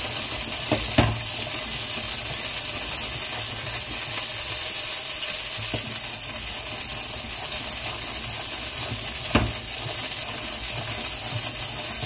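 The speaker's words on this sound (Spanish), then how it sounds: "Vamos a echar los garbanzos para que se doren un poquito" Chickpeas frying in a very hot pan give off a loud, steady crackling sizzle broken by a few sharp clicks, with no voices.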